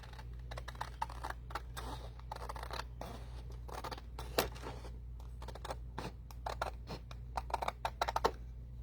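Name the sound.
scissors cutting paper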